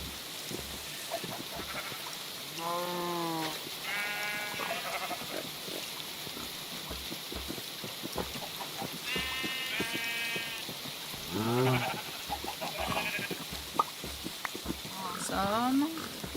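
Sheep bleat in a video game on Timeless Isle, several separate calls scattered over a quiet ambient background, one around each few seconds, fairly clear and close.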